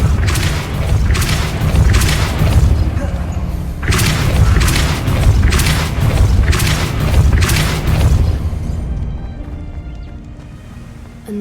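The Depulso force spell in Hogwarts Legacy lands as heavy booming thuds that roll continuously for several seconds before fading to quiet.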